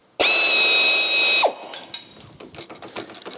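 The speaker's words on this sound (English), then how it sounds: "now I'm going to remove the nut from the bolt at the front of the spring" Ratchet wrench or power tool spinning a nut off the front bolt of an MGB GT rear leaf spring: a loud continuous whirring burst of just over a second, then quieter clicks and metal handling.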